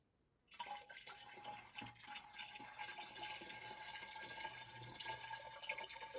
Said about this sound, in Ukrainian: Виливаю цей літр оприскувач, перетіліпаю і буду оприскувати